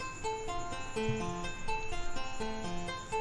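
A guitar arpeggio repeats a short rising pattern of plucked notes in a steady loop, quiet and slightly muffled, with a faint background hum.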